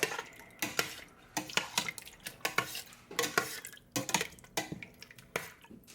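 A spoon scrapes and clinks around the inside of a metal pot of butternut squash soup in irregular strokes, close and moderately quiet, with no talking.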